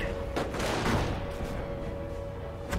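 Cannons boom heavily through a dense, rumbling battle din in Company of Heroes, with sharp blasts at the start and a steady roar of gunfire continuing throughout.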